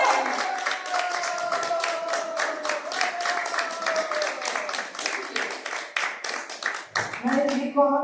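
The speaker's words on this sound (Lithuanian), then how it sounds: "Jau žymis, ploja." Wedding guests clap in a dense, rapid patter right after a couple is pronounced husband and wife, with voices rising over the clapping before it thins out near the end.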